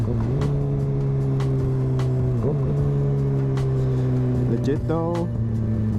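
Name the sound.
Kawasaki Ninja ZX6R 2020 motorcycle with M4 exhaust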